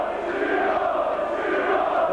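Rugby league crowd at a 1993 St Helens v Halifax playoff cheers steadily as an injured player leaves the field, a continuous, fairly loud roar from the popular side terrace with no break across the stretch.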